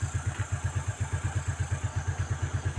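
A Suzuki Spin 125 scooter engine runs steadily right after being started, with a rapid, even low putter close by and no talk over it.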